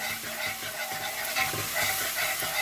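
Chicken with cumin, coriander and a pinch of turmeric is stirred in a pan for coconut salan, a bright continuous sizzle broken by rhythmic scraping strokes of the spoon, close and fairly loud.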